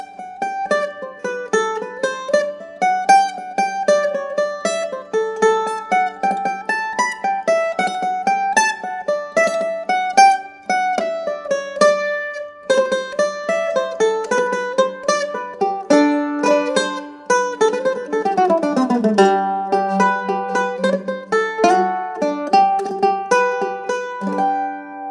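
Irish mandolin played alone and slowly, plucking a run of triplet notes in a jig-like tune, each picked note clear and ringing with a steady, unhurried rhythm and occasional short pauses.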